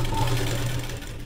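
A sewing machine runs steadily, stitching a blouse lining, with a close, continuous whirring hum for the whole moment and no talk.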